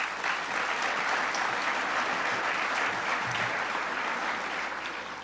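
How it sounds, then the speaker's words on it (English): Audience at an honors ceremony for first responders and community heroes gives a priest a round of applause: thick, even clapping throughout, tapering just slightly at the close. "Let's give him a round of applause."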